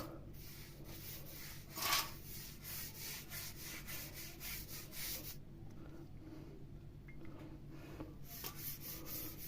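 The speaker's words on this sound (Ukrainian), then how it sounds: "беремо щітку, перчатки і починаємо масти знизу вверх" A brush spreads mould remover upward across a wall, producing a faint, steady scrubbing and rubbing with soft bristle strokes and a brief sharper scrape near the start.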